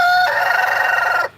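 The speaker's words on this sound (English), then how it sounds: "Look at that rooster." A Splash Orpington rooster crows once, loud and close, a single sustained call lasting just over a second before cutting off abruptly.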